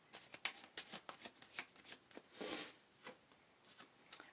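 Tarot cards being shuffled by hand, a close, quiet series of soft rapid riffles and flicks in uneven bursts, with one longer sliding swish in the middle.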